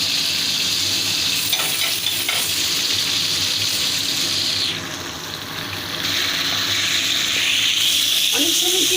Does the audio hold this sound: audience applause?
no